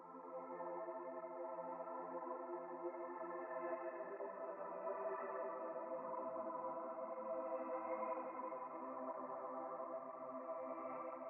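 A steady, sustained tonal sound pitch-shifted down three semitones, slightly warbling, continuous and even in loudness throughout, heard alone.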